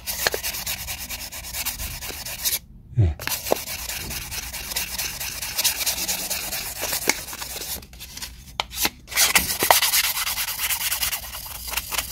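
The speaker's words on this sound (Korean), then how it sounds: "이거 사포가 좀 약간 1200방짜리 좀 고운 건데" Steady scratchy rubbing of fine 1200-grit sandpaper against a hard disk platter, continuous back-and-forth strokes with a few brief pauses, close and fairly quiet.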